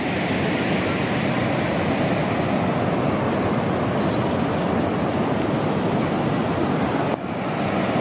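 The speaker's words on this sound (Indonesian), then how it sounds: "Tengok ombak tu." Sea waves break at Pantai Melawi beach in Bachok, Kelantan, during rain, making a steady, dense roar of surf and rainfall that continues without a pause and with no talking.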